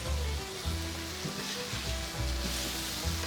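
Onions and carne asada sizzle on a flat griddle, a loud, close, continuous frying hiss with occasional scraping and a low background hum.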